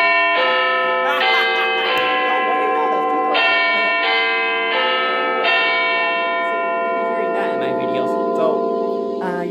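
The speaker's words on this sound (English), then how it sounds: "Yeah, that was a 2:30 chime." Church bell chiming the half hour at 2:30, a series of rich, ringing strikes with long overlapping decays that sustain loudly and alone without talk.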